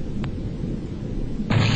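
A big explosion in the underwater strategy game X-COM: Terror from the Deep, a loud low rumbling blast that swells sharply near the end with a bright crackling burst on top.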